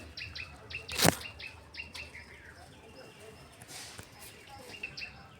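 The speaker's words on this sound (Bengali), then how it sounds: "এই যে আমাদের কুল গাছ, প্রচুর পাখি আছে, নানা রকমের পাখি আছে খেতে" Several birds feeding in a jujube tree give scattered chirps and tweets with brief wing flutters, one sharp close call standing out, all fairly faint over a soft outdoor background.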